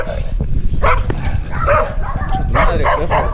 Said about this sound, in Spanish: Odio a los perros como este, loco.